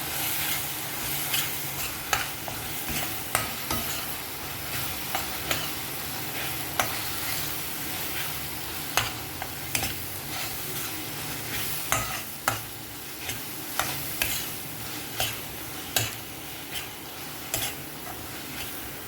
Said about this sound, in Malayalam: കുറച്ച് ഗരം മസാല നന്നായിട്ട് ഇളക്കി യോജിപ്പിച്ച് വെക്കുക